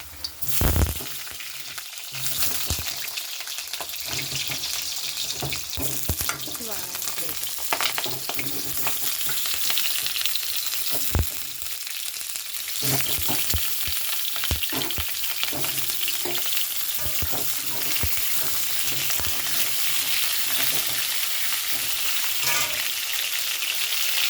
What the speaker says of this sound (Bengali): তেল গরম হয়ে গেছে, আর ওগুলো ভেজে তুলে রাখবো।